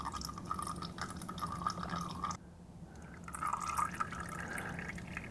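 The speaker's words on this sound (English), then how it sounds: "oil is draining out" Engine oil draining out of a Suzuki DR650 motorcycle, a steady trickling stream of liquid, close and fairly loud, that briefly drops away before resuming, with no speech.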